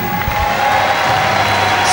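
Crowd at the All England badminton championships applauding the runner-up after a women's singles final, a continuous wash of clapping and murmur from a large indoor audience, with a commentator's voice faintly over it.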